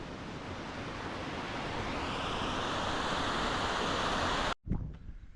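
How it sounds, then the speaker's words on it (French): Rec d'Argent stream in the Clape massif, a steady close wash of flowing water that builds slightly before cutting off abruptly near the end. "je remonte toujours le ruisseau du Rec d'Argent"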